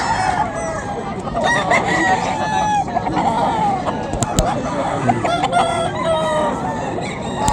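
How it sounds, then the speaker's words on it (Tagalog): Chickens and roosters at a Friday poultry market in Bocaue, with roosters crowing and hens clucking steadily throughout, crowded and close, among faint market voices. "Solid yung mga manok dito sa Bukawi, oh."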